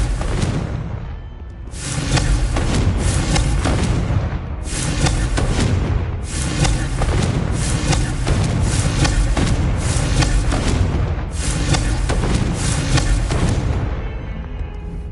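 Confringo fire spells exploding in Hogwarts Legacy on PS5, with loud booming blasts and heavy whooshes in repeated waves over a dense game soundscape.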